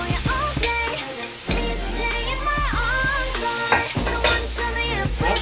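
Shredded cabbage goes into potatoes already frying in a pan, with sizzling, stirring and utensils scraping and clinking against the pan throughout, loud and close.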